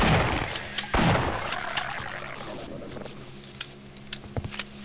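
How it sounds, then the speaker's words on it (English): Gunshots in the shooter game Half-Life: Opposing Force, a loud blast at the start with its reverberating tail, then a scattering of fainter, quicker shots near the end. "Fire your gun at them."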